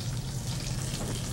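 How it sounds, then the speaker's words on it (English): Tap water runs steadily over broccoli rabe with cut stems, a continuous close rushing wash with no talk. "rinse it out really well beforehand."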